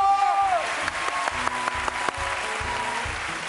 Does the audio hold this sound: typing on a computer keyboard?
no